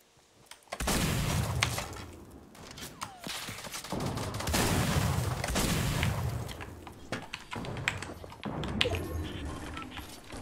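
Gunfire and sniping in Fortnite: rapid shots and crackling bursts continue through the whole stretch, loud and close, with brief lulls between volleys.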